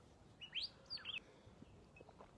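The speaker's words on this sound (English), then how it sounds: "Oh, the bird flew away finally. No, wait. I think there's two of them." Birds chirping outdoors, two quick bursts of high tweets close together early on, then fainter scattered calls over a low steady background hum.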